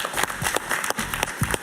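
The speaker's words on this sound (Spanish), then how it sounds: "Un gran aplauso para ella." A crowd applauds, a dense patter of many hands clapping steadily throughout.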